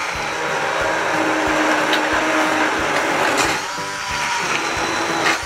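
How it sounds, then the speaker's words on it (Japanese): A handheld immersion blender purees new-onion soup directly in the cooking pot, a loud, steady motor whine that churns continuously and dips briefly as the blade shifts through the liquid. "一番楽なのがこういうねあのハンドブレンダーね、でこいつで鍋のまんまいきますよ"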